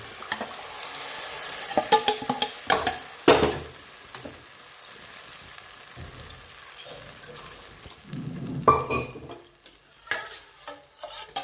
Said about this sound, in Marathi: पीठ टाकून घेतलं आपण ते चांगलं हलवून घ्यायचं गटोळे होऊ द्यायचे नाही